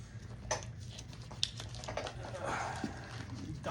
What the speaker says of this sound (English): Dog's chewing in the background.